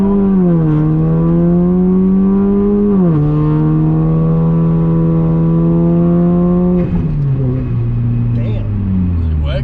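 A 2010 Saab 9-3 fitted with a new turbo accelerates hard, its loud, close engine note climbing steadily, dropping sharply at each of two gear shifts, then pulling again.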